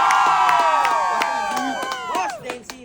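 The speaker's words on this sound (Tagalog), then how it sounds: "Palakpak muna tayo." A lively gathering at a sales payout event bursts into sustained clapping and cheering from a crowd, with loud shouts and whoops rising over continuous applause throughout.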